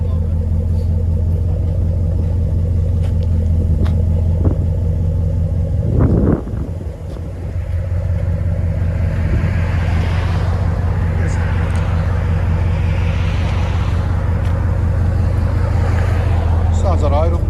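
A 2020 Dodge Ram with a 5.7L engine and Flowmaster Super 10 dual exhaust idles with a steady, deep rumble, broken by a brief clatter partway through, with faint voices in the background.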